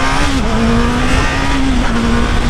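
Motorcycle engine accelerating hard in São Paulo city traffic, a loud, close, sustained high-revving drone that holds steady pitch with slight dips throughout, with no talking.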